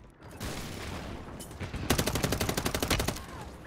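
Gunfire in the video game Call of Duty: a loud, close burst of rapid, evenly spaced shots rattling for about a second over steady background game noise, with no talking.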